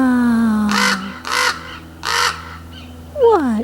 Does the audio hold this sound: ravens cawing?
yes